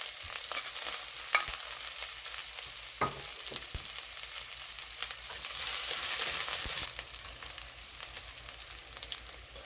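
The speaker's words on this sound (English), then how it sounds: "You toss this into the hot oil until it starts getting light brown to the edges" Fenugreek, curry leaf, onion and pepper frying in hot oil for Trini karhee, a soft continuous sizzle broken by occasional stirring clicks and a brief louder hiss, fairly quiet and close, with no voices.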